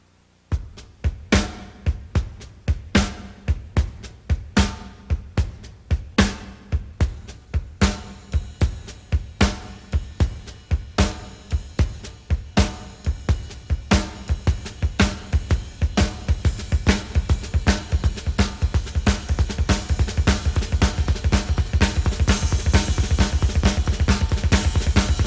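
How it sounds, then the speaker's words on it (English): A drummer plays a drum kit beat with two bass drums and soft ghost strokes tucked between triplet figures. The fast, continuous, close-miked groove of kicks and snare hits builds denser and louder as it goes, with no talking. "Now what I like to do to this beat is add in ghost strokes in between the first triplet"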